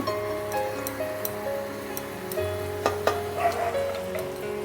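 Onions browning in hot oil crackle and sizzle up close, with occasional clicks of a spatula against the pan and faint tonal background sound beneath, no one speaking.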